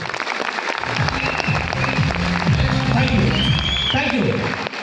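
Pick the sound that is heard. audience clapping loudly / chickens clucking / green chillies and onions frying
audience clapping loudly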